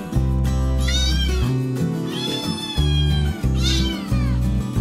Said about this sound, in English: 3 kittens started playing with mother cat, jumping as usual.